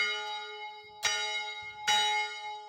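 A resonant bell rings, struck twice about a second apart, each strike leaving a long humming tone that lingers in between.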